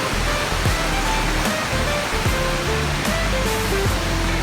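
Steady broadband roar of a waterfall, loud and continuous with no breaks, like heavy water crashing close by; faint scattered tones sit underneath the wash.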